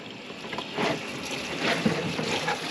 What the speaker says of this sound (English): Rinse off the floor mat because I can't use the hose.